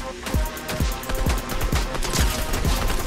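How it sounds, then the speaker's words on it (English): A Striker Burst Assault Rifle firing in Fortnite, with loud, punchy shots arriving in quick repeated bursts, around seven sharp cracks spaced in a steady rhythm over a few seconds. "Striker Burst Assault Rifle"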